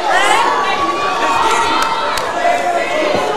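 A capacity wrestling crowd of over a thousand at the Humble Civic Center cheering and shouting, with high-pitched yells and screams in a loud, continuous indoor roar.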